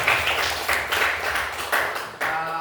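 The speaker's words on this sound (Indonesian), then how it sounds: "Beri tepuk tangan lagi untuk kita semua" Schoolchildren in a classroom clap together in a few bursts of quick, fairly loud hand claps, each burst rising sharply and trailing off, close to the listener with no talking over them.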